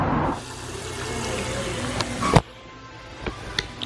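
Water runs into a foot-soaking basin at a nail spa in Coconut Creek. It makes a steady rushing pour with a louder splash near the start and a sharp clunk midway, then settles into a quieter flow with small knocks.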